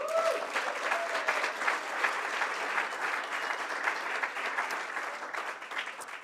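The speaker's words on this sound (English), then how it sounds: "let's applaud for her anyway" An audience at a live 15th-anniversary awards event gives sustained, dense applause that holds steady throughout and eases slightly near the end.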